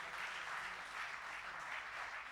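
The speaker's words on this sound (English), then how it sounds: "Give her a big round of applause." Audience applause at a concluding session of an awards ceremony, a steady wash of many hands clapping, moderately distant and fairly quiet, with no talk over it.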